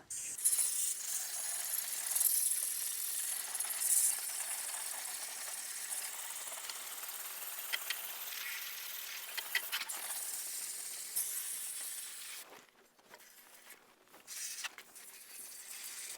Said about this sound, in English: now that I got that sprayed out, I'm going to spray from top down